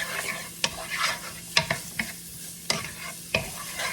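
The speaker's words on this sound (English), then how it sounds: "Okay, so we are sizzling." Pork stir-frying in a hot pan, a constant sizzling crackle with occasional scraping clacks from stirring.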